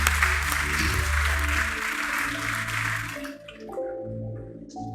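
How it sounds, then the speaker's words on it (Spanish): Congregation applause during a church sermon, a dense burst of clapping over a low sustained organ or keyboard tone, cutting off after about three seconds and leaving quiet instrumental notes. "Un aplauso al Señor."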